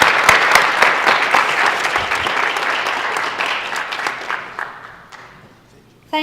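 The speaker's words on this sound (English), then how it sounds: "Students, please give a round of applause for our loved ones." Audience applause at a high school National Honor Society induction ceremony: dense, loud clapping from a large crowd that gradually thins and fades out near the end.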